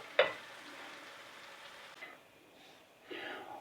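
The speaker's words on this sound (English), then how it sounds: "I'm just going to stir this around a little bit." Country gravy sizzles and bubbles in a pan while it is stirred, with a steady, close frying hiss, a sharp clink near the start and scraping strokes toward the end.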